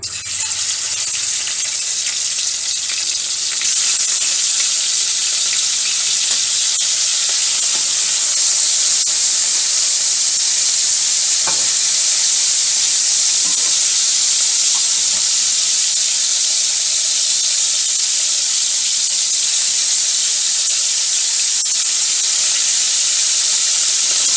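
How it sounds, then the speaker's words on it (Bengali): Fish frying in hot oil in a kadai gives a steady, loud hiss and sizzle that holds evenly throughout, with a few faint clinks under the noise and no talking. "মাছগুলোকে এখন আমি ভেজে নেব"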